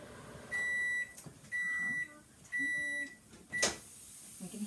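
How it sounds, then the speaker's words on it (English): Microwave timer beeping as a Tupperware microwave pressure cooker finishes cooking ribs: three long, even electronic beeps in a steady rhythm, followed by a short beep and a clunk, close and clear over a quiet room. "I want to show you what to expect whenever your timer goes off for your pressure cooker"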